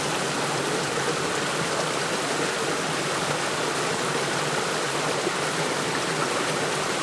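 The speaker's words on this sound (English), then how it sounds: "You always want to rinse your sample jar at least 3 times" Steady, dense rush of flowing stream water, continuous and fairly loud throughout, where a sample jar is being rinsed in the stream; no distinct splashes stand out and no one speaks.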